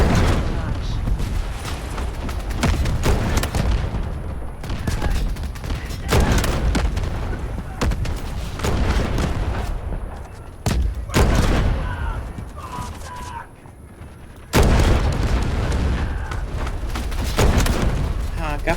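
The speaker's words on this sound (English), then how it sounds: "Artillery ready for barrage." Artillery barrage in the Delta Force Hawk Ops video game: repeated heavy booms and thumping blasts at irregular intervals, loud and continuous, with voices heard over the gunfire.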